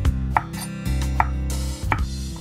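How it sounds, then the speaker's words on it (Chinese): Knife chopping eggplant into roll-cut wedge chunks on a board: a few sharp, separate chops spaced irregularly, close and clear with a low steady hum underneath, no talking. "茄子改刀成滚刀块"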